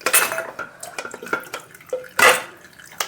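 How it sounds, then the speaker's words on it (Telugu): A blender jar being rinsed with water in a home kitchen while making carrot soup, with sloshing water and sharp clattering knocks of the jar, in irregular bursts close to the microphone. "దాంట్లోనే వాటర్ వేసి కడిగి వేస్తున్నానండి ఈ జార్లో."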